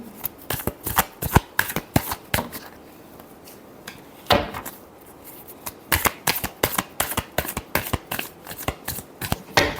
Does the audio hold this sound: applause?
no